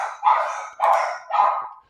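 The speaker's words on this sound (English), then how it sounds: "I'm glad it's somebody else's dogs making all the noise tonight" A dog barks three times in a row at night, each bark loud and slightly distant, with short silent gaps between them.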